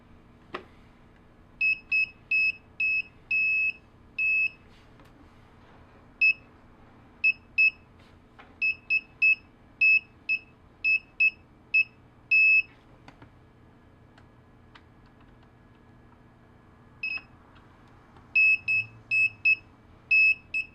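A cheap AliExpress metal detector, hacked to sense a small nail, gives short high electronic beeps in irregular bursts, sometimes quick runs and sometimes single chirps, over quiet background with pauses between.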